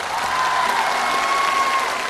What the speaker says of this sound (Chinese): 那还是要给他鼓掌